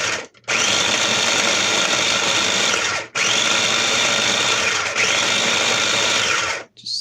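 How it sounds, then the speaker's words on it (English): A small food processor grinds English walnuts in loud, continuous whirring bursts, stopping briefly between each of several pulses. "You can either use a little food processor"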